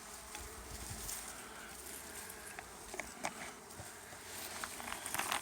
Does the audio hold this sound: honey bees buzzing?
yes